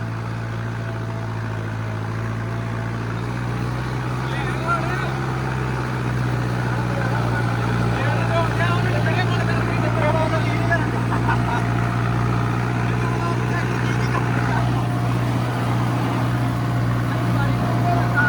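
A steady, low 4x4 tractor engine rumble drones on throughout at an even, moderate level while ploughing a field, with faint chatter and field noise mixed in.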